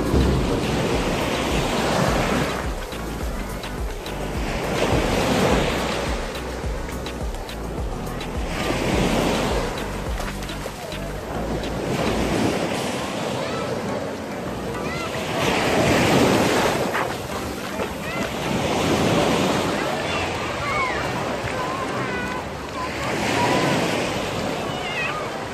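Surf rolls onto the sand at Dumaluan Beach Resort on Panglao Island, Bohol, in loud repeated swells every few seconds, with wind buffeting the microphone throughout.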